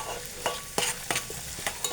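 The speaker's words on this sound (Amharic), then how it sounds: "ዘይቴን አርጌ እያቁላለሁ ነው።" Oil heats in a small pan on a stove while rice is cooked, a quiet sizzle broken by sharp scraping taps of a stirring spoon, about five or six strokes, close and without talk.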